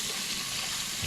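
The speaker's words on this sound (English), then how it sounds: "We'll just fill this up with some ice" Water runs steadily into a bowl of ice for an ice bath used to chill boiled eggs, a soft continuous rush of flow close by with no talking.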